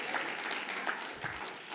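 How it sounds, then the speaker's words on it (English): A few scattered hand claps ring out among a church congregation during a sermon, soft and somewhat distant against a steady room murmur. "A few hand claps over there."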